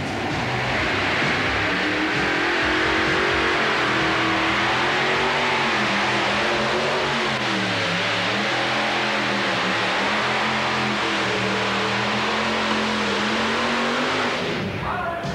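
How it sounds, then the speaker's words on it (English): Several high-dollar race engines in a modified-division tractor pull roar continuously and very loudly, a dense ear-splitting drone with slowly wavering pitch as they labor under load, fading abruptly near the end. "the ear-splitting cry of 3 and 4 high-dollar race engines found in the modified division"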